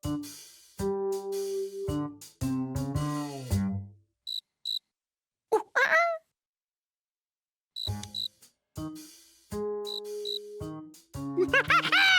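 A cartoon cricket chirps in short, bright tonal bursts with musical pitch sweeps, scattered across the scene between pauses of near silence.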